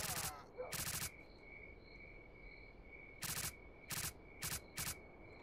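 Gunfire from a weapon in S.T.A.L.K.E.R.: Call of Pripyat rings out in short separate bursts of sharp, loud shots, one early pair then four quick bursts near the end, with a faint steady ambient tone between them.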